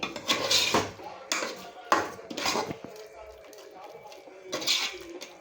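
Spices such as cloves, cinnamon and cardamom being stirred and fried in a pan, heard as repeated close metallic scrapes and clanks of a utensil against cookware in irregular bursts, with soft background noise between strokes.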